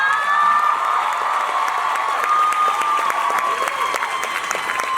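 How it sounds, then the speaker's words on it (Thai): An audience at a Thai stage event for the Bangkok Blossom musical applauds for Milli, dense steady clapping mixed with high shrieks and cheers, loud and sustained throughout. "ขอเสียงปรบมือดังๆให้กับมิลลี่หน่อยได้ไหมคะ"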